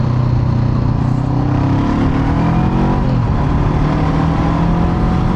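A 2021 Honda CB500X motorcycle engine drones steadily while riding over gravel, a loud continuous hum with its pitch climbing and then dropping sharply near the end as the rider eases off, wind noise mixed in.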